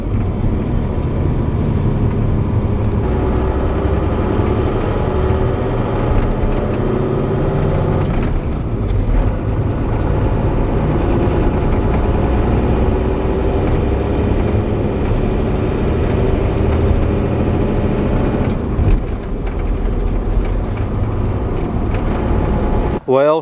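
A pickup truck engine drones steadily while pulling a trailer, a constant close hum with road and cabin noise and a couple of brief louder bumps.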